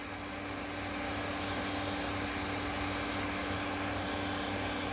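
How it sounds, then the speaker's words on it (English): A Duz premium hands-free pet hair dryer runs continuously during a Yorkshire Terrier grooming session, giving a steady, even whirring hum throughout. "This dryer that I'm using is called Duz, D-U-Z, D-U-Z. Premium hands-free dryer."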